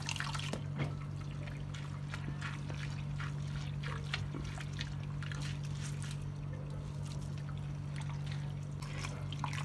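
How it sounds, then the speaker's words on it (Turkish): Grated onion for homemade lahmacun being washed and drained through a strainer, a soft, fairly faint trickle and splash of water with small drips, continuous over a low steady hum. "Bunu böyle birkaç kere yıkayıp süzgeçten geçireceğim."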